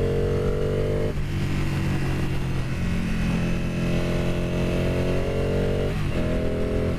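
A Ducati 959 Panigale sport motorcycle engine revs steadily and climbs in pitch, then drops sharply twice at the gear shifts, loud and close, with no talking.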